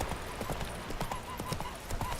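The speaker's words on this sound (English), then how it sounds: "Do we want to get on the horse? And we'll go for a gentle canter." Hooves of Roach, the horse in Witcher 3 Next-Gen on PC, cantering gently: a steady clip-clop rhythm blended into a dense, continuous game soundscape, moderately loud and unbroken.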